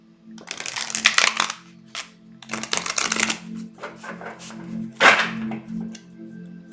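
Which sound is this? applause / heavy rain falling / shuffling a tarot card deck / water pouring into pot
shuffling a tarot card deck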